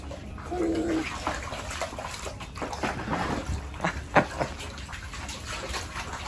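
Ducklings splashing in shallow water: small, scattered splashes and drips with a brief bird-like chirp early on and one sharper splash near the end, all fairly close with no talking.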